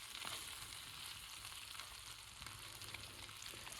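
Steak frying in a pan at an outdoor campsite in Appalachia, giving a steady, faint sizzle and crackle that continues evenly throughout, with no voices.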